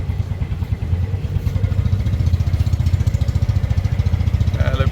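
A tuk tuk engine chugs steadily through a ride in Siem Reap, its close, loud putter pulsing in a fast, even rhythm from start to finish with no talk over it.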